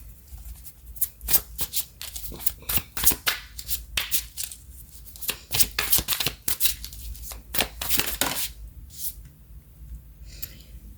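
Tarot cards being shuffled by hand, a close run of crisp riffling bursts and soft slaps in uneven rhythm, with quiet pauses between.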